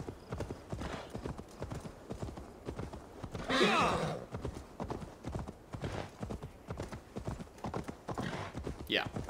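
Horse galloping in Assassin's Creed Valhalla, a steady close clip-clop of hooves throughout, with a snort or whinny in the middle and another near the end, while a person talks over it.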